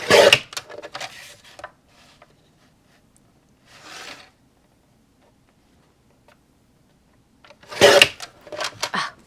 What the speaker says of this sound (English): rotary trimmer to clean that up.